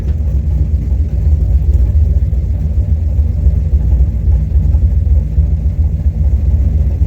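A steady low engine rumble drones without pause, loud and close, from a car with FiTech fuel injection sitting at idle.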